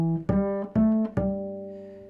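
A double bass in thumb position plays a short phrase of three clear notes landing on E, without a grace note, each ringing out alone and fading at the end.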